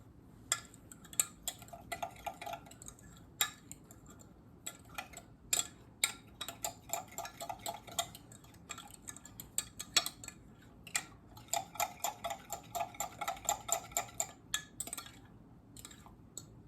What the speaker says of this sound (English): Now I'm going to give this a stir, making sure that all of the yeast is hydrated.